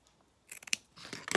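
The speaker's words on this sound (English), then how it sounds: "Find my scissors here." Scissors handled while crafting a card with ribbon, a few quick metallic clicks and snips after a brief silence, then rustling and a sharper cut near the end, close and fairly quiet.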